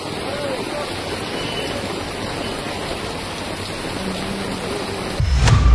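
Heavy rain pours over Bengaluru streets, a dense, even hiss of falling water throughout, ending in a sudden louder rushing burst.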